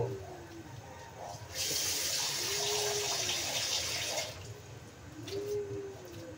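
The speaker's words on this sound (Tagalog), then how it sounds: "Lagyan na tayo ng tubig" Water pours steadily into a cooking pot of chicken and lemongrass for a few seconds, a continuous splashing rush that then tapers off, with faint background noise around it.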